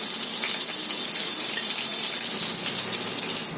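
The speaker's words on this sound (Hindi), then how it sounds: "इसी तरह हम कबाबों को चारों तरफ पलट कर फ्राई कर लेंगे" Mutton handi kebabs fry in hot oil in a pan, giving a dense, steady sizzle that runs without a break and eases slightly at the end.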